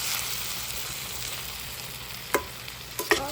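Eggplant and potato curry cooking in oil, soft steady sizzling close by, with a couple of light clinks of a utensil against the pan near the end.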